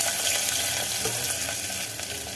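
Onion frying in two tablespoons of oil with fennel seeds in a pressure cooker, a dense steady sizzle close up that fades slightly toward the end, with no talking.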